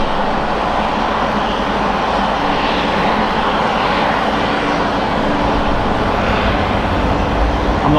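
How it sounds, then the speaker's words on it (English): A steady, loud jet engine roar fills the air continuously, a heavy broadband rumble that swells slightly without pause, no talking. "I'm not sure if you guys can hear that in the background, but that is a 767."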